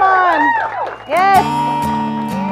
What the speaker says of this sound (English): Let's cheer him on, cheer him on.